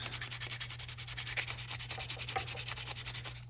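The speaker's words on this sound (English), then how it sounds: "So I'll spend some time sanding it smooth, particularly on these corners," Rhythmic hand sanding, a steady back-and-forth scratchy rasp repeating several times per second, close and fairly quiet, with a low hum underneath.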